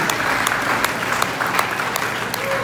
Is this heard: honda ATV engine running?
no